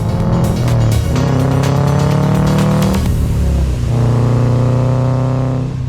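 A Subaru Impreza Prodrive climbs Franschhoek Pass on a mountain road, its engine revving hard through rising gears with brief pauses at the shifts. The car is loud and close throughout, and no voices are heard.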